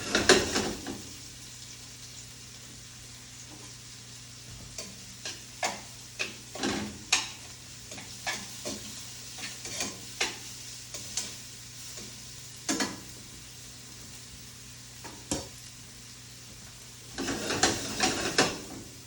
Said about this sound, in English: you can see we're starting to get just a little bit of color on our peppers and onions